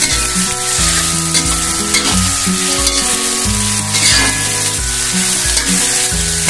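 A ground spice paste sautés in hot oil for Kelantan-style beef kerutuk, giving a loud, dense, continuous sizzle and crackle with a faint scraping stir underneath, close up and with no voices.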